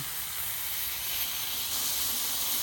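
A smash burger patty sizzles on a hot, smoking griddle set to medium, giving a steady, bright hiss that stays even and fairly close throughout, with no talking.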